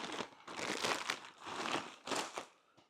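Close, quiet crinkling and rustling of packaging handled while unboxing an EV charger, arriving in several bursts of crackling with short pauses between them.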